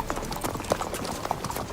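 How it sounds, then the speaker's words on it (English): Steady clip-clop of a horse's hooves on a ride in The Witcher 3, an even trotting rhythm of close, soft knocks over a constant ambient wash. "you would expect this to be a calm and soothing horse ride all the way to Vizima"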